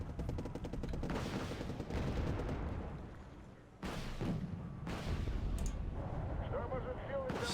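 Gunfire and explosions in the video game Wargame: AirLand Battle, rapid bursts of shots and heavy blasts rolling continuously at moderate distance, with a voice talking over the battle.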